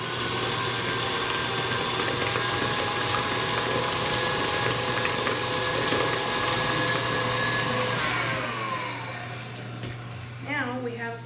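An electric mixer beats orange frosting for orange Dreamsicle cupcakes, giving a steady, loud, close whirring drone that holds for most of the stretch and then eases off near the end.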